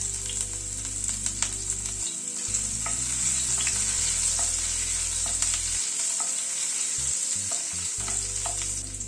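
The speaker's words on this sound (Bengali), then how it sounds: "যেহেতু এটা গার্লিক নুডলস, সেই জন্য খানিকটা রসুন কুচি প্রথমে তেলের উপরে দিচ্ছি" Chopped garlic fries in white oil for sweet and spicy garlic noodles, giving a loud, dense, unbroken sizzle. Quick stirring taps scatter through it. No voices.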